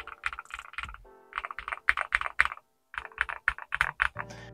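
Fast typing on a GMK67 keyboard fitted with Boyi Flaming Skull Purple Shine switches, giving close, crisp, fairly thocky keystroke bursts in quick runs, broken by short pauses.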